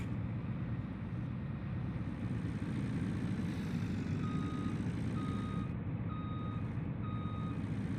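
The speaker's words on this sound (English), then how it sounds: "I feel like a super trucker driving this Peterbilt with my wide load on the back." A Peterbilt truck with a wide load reverses in Farming Simulator 19, its diesel engine rumbling low and steady while evenly spaced reversing beeps start midway and repeat about once a second.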